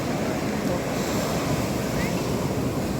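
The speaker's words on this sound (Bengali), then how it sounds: "সমুদ্রের ঢেউটা দেখো" Sea waves breaking on the beach at Puri at dawn, a continuous loud wash of surf mixed with strong wind buffeting the microphone, close and unbroken.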